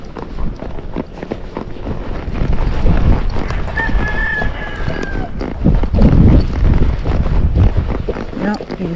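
Hooves of a ridden Tennessee Walking Horse thud in a steady gaited rhythm during an arena evaluation, with someone talking over them and some wind buffeting the microphone.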